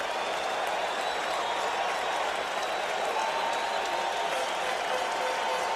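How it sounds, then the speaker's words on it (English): A packed baseball stadium crowd at World Series Game 7 between the Boston Red Sox and New York Mets roars and claps in a dense, sustained wash of noise, urging on a strikeout. "Crowd making the kind of noise it normally makes for Dwight Gooden."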